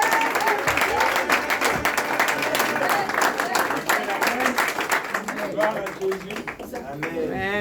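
A church congregation at a prayer vigil applauding to acclaim God, dense sustained clapping from a crowd with voices singing and calling out over it.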